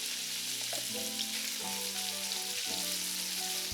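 Pork pieces fry in hot oil in a pan over high heat, giving a continuous crackling sizzle with sharp pops, some brief stirring, and no voices.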